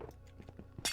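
Glass block breaking in Minecraft, a bright crisp shatter at the end after a few soft dull thuds, fairly quiet overall.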